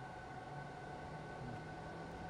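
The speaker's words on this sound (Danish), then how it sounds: "Ej, men det lyder da som et S-tog, nonetheless." An S-train runs in a train simulator game, heard as a low, steady hum of motors and rolling with faint tonal whine, quiet and unchanging throughout.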